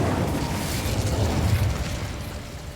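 An Incendio fire spell cast in Hogwarts Legacy, heard as a steady roaring whoosh of flame with a low rumbling body that holds for a few seconds without a break.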